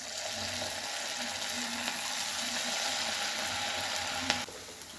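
Gobi (cauliflower) pieces fry in hot oil with a constant loud sizzling hiss, a small clatter near the end, and the sizzle continuing steadily.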